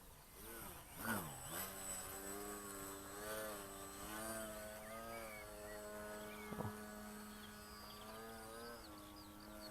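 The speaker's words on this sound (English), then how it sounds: "I did like that little prop hang on top of the hedge." A radio-controlled SBACH 3D model airplane hangs on its propeller above a hedge, giving a steady, moderately distant buzzing drone that wavers in pitch as the throttle shifts, with faint background noise and no clear speech.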